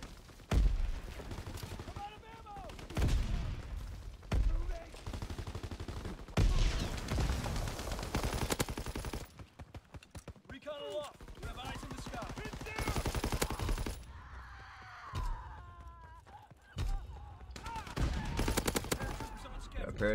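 Bursts of machine-gun and rifle fire in Call of Duty WW2 combat, loud clustered volleys broken by short pauses, with voices talking between the shots.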